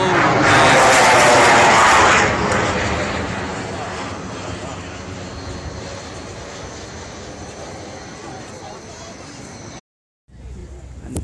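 Eurofighter jet with delta-shaped wings flying at the Farnborough Airshow, a loud roaring engine sweep that peaks early then fades to a steady distant rumble, cut briefly by a gap near the end.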